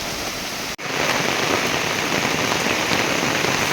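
Steady broadband rain falls loud and continuous during outdoor cooking of an egg fry gravy, with a brief cut near the start and no voices.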